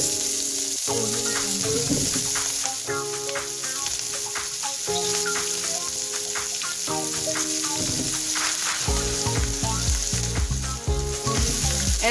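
Brussels sprouts sizzle loudly in melted butter in a large pan, a constant crackling hiss with stirring clatter and occasional knocks of the spoon against the pan.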